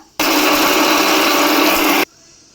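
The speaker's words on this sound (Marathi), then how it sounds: "पहिले आपल्याला बघा वाळलेला मसाला बारीक बारीक करून घ्यायचा आहे" A mixer grinder pulverises dry whole spices for misal masala: one loud, steady, harsh whir starts abruptly, holds for about two seconds, then cuts off sharply into quiet.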